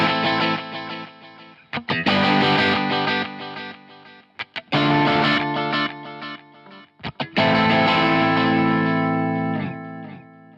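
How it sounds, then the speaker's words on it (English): Distorted electric guitar chords played through an echo pedal ring out in three long strummed phrases, each trailing into repeating echoes, with short picked stabs between them. "let me give you a demonstration of what the echo sounds like"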